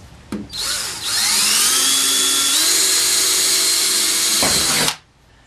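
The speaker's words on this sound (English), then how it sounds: "on the inside of the line is where we drill our hole" Power drill boring a pilot hole through metal trim on a lower side panel, a steady high whine lasting about four seconds between brief starts and stops, close and loud with no talking.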